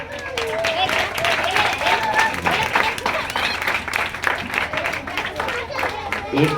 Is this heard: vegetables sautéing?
no